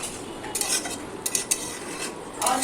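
Soybean kofta curry stirred in a pan with a utensil after water is added: scraping and clinking strokes against the pan in irregular bursts, with a soft sizzle underneath.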